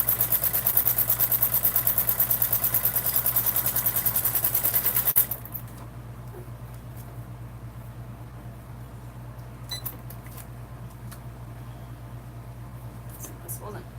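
A sewing machine stitches a bag with its bobbin thread running low, a fast steady mechanical whir for about five seconds that then stops, leaving a quiet hum with faint small clicks and handling noises.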